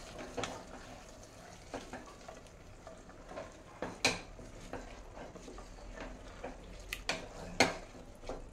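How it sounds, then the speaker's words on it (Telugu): Paneer biryani with basmati rice being stirred in a pressure cooker, a spoon scraping and knocking against the metal pot in irregular strokes, with a few sharper clinks standing out; close and fairly quiet, with no voices. "ఇప్పుడు మిక్స్ చేసుకుందాం."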